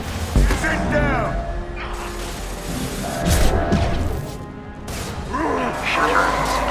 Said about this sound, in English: Shutter secured.